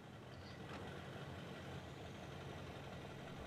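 A Ford Excursion's Duramax diesel truck engine in the video game SnowRunner idles with a steady low rumble after starting, a brief higher whine rising near the start.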